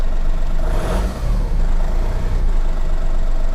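A Volkswagen up! GTI's small engine runs steadily and close by, a buzzy, slightly uneven hum that holds throughout with a brief rise near the start.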